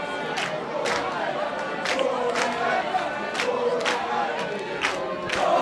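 Schoolboy supporters from Queens shout in the stands at a Border Schools Day rugby match between Selborne and Hudson Park, a continuous crowd roar with rhythmic chanting bursts under it.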